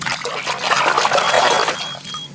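Clean water is poured for washing plastic toy animals, a steady close splashing and trickling stream lasting a couple of seconds.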